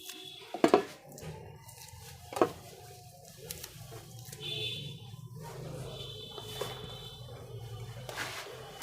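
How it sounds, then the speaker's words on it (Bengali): A knife slicing soft kochu (taro) flowers on a board, a few sharp, separate cutting knocks amid quiet kitchen handling sounds. "তা আমি একটু কেটে দিচ্ছি।"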